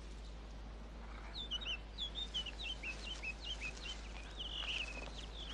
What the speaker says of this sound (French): Un papa rossignol écoute les premières notes de son fils